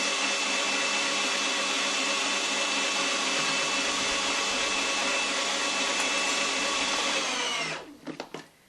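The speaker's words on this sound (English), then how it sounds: "Okay, so I'm going to start to blend." Blender running loud and steady as it purees hummus with olive oil, a continuous whirring drone that stops abruptly near the end, followed by a few short knocks.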